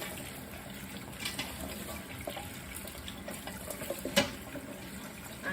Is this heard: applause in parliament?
no